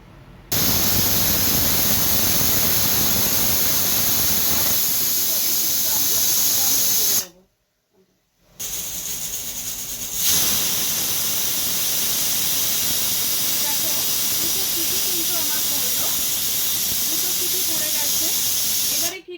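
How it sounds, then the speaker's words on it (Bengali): A closed pressure cooker on a kitchen stove, cooking a cabbage curry, vents steam with a loud, continuous hiss. The hiss cuts out briefly partway through, then the strong rush of steam resumes. "এবার এটাকে প্রেসার কুকারের মুখটা বন্ধ করে দেবো, হতে দাও, সিটি পড়ুক, দুটো সিটি।"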